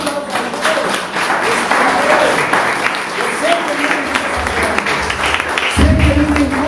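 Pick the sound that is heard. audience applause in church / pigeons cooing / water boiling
audience applause in church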